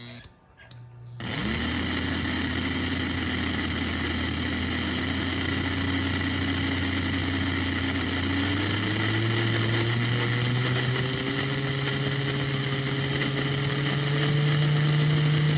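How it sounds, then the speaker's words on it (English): A 1948 model 350 4-6-2 Pacific Royal Blue locomotive motor runs steadily on a track stand, powered by a 2B transformer, giving a continuous close electric whine and hum that rises slightly in pitch partway through. "I can tell how well the lubricant is doing just the ability of how it coasts, the axles and the motor coast."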